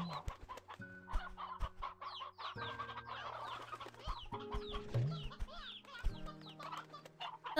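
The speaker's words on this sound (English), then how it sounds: "I thought that was an elder hen." An elder hen in Slime Rancher 2 clucks repeatedly in short, steady bursts over a busy game soundscape with bright chirps and tones, the clucking clear and close throughout.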